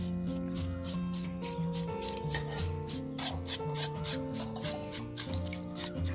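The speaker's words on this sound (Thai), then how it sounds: "หลังจากเราขูดดำๆออกแล้วนะ ที่ส่วนที่ไหม้ค่ะ" A knife scrapes burnt skin off a pork leg in quick, repeated rasping strokes, steady and close, over a faint tonal background with no speech.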